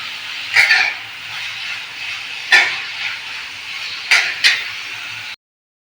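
Steady hissing sizzle of grated radish in hot oil, with a few sharp clattering bursts and no voices.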